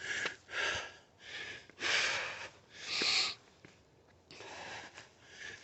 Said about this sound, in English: pardon me for the heavy breathing.